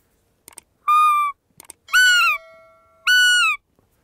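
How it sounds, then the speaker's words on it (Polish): A blown roe deer hunting lure call gives a few short, high, whistled squeaks in quick succession, clear and close against silence, with faint clicks between them. "takiego wabika, który wydaje takie dźwięki. Ruja u saren."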